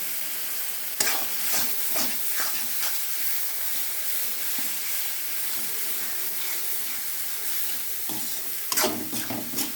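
Chopped cabbage frying in a pan for bhorta, a continuous sizzle broken by repeated scraping stirs, with sharper bursts near the start and end.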